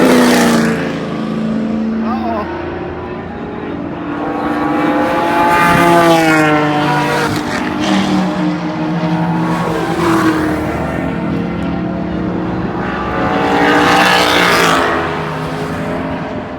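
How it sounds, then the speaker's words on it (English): Loud Ford Mustang Boss race cars roar and rev as they speed past, their pitch sweeping up and down repeatedly with a steady, close, droning intensity. "Those boss cars are ridiculously loud."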